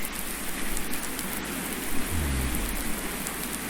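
Steady broadband rain in Farming Simulator 19 with Seasons and Precision Farming, a continuous even hiss of drops on surfaces holding constant throughout, with a faint low rumble near the middle.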